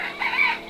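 A rooster and hens in a small backyard coop clucking and calling, a brief burst of bird vocalising that swells mid-way, close by with no talk.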